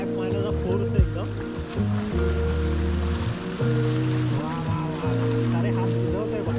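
Forceful rushing water pours during a heavy monsoon downpour near Pen, roaring steadily and close, with someone talking over it.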